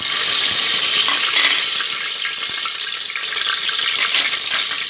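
Whole garam masala and bay leaves dropped into hot oil in a pan on a gas stove, giving a loud, steady, close hiss of frying without any voices.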